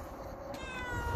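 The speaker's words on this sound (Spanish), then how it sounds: "y ahora aquí estamos con el gato negro" A black cat gives one close, clear meow that lasts about a second, heard alone against a quiet background.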